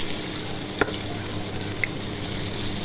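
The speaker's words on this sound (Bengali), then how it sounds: "তেল গরম হয়ে গেছে, এখন পেঁয়াজ কুচি দিয়ে দিব।" Chopped onion fries in hot oil in a home kitchen with a constant, even sizzle close by, broken by two brief utensil taps, and no voices.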